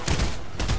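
Gunfire in a video game shootout, a short burst of shots with two or three thumping reports less than a second apart, at moderate level.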